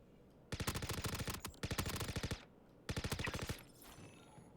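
Rapid automatic gunfire from a Star Citizen firefight, arriving in three loud sustained bursts of closely spaced shots, the first two nearly back to back and the last after a short pause, with no talk.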